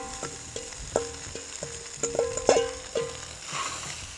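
Sausage sizzles in fat in a discada over a flame, with a soft crackle and a series of sharp metallic taps and scrapes as it is stirred and turned.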